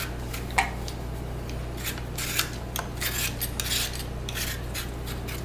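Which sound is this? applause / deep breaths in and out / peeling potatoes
peeling potatoes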